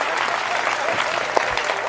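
A live audience at a TV awards show breaks into loud, sustained applause welcoming a mimicry performer, a dense crackle of clapping with faint crowd voices beneath.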